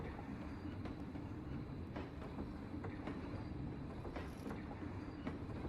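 Steady rumbling train ride in the Planet Coaster video game, with continuous rolling wheel noise and faint rhythmic clatter throughout, fairly distant and even in level.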